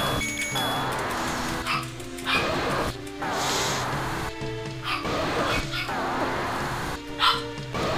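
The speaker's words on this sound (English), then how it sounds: "Dogs." Dogs bark in a Zelda game, short sharp yelps that repeat in bursts of roughly a second and sit over looping game music and effects.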